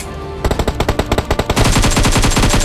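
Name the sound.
gunfire in video game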